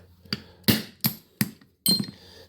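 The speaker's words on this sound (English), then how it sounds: "try to just use the breech block and a hammer" A hammer drives a punch through a trigger pin in a Generation 3 Glock, with the breech block used as support. Five sharp metallic taps ring out up close, spaced irregularly, with no other sound around them.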